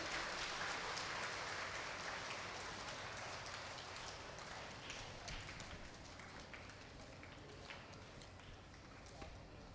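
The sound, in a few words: audience applause at a ceremony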